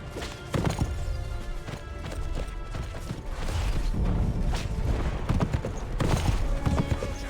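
A horse gallops in a Lord of the Rings video game, with rapid, loud hoofbeats clattering in an uneven rhythm together with other game noises and thumps, close and continuous throughout.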